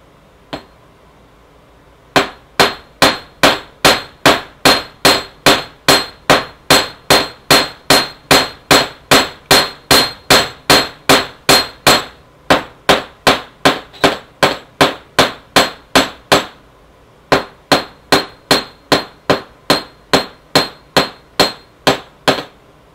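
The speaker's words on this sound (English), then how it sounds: "And I'll just hammer similarly on the other side." Steady metallic hammer strikes on metal wire for a wire-wrapped pendant ring out in a fast even rhythm, dozens of sharp close blows with brief pauses between runs.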